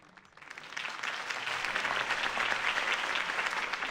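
Crowd applause after Harvey Dent's campaign speech in the video game Batman: The Telltale Series swells up from quiet into a full, steady ovation of many hands clapping, with no voices over it.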